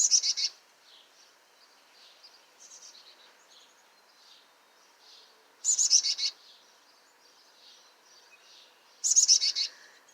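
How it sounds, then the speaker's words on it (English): A baby bird leaving its nest gives three short bursts of high, bright chirps, well spaced, with faint softer peeps between them over near silence. "He's a baby bird."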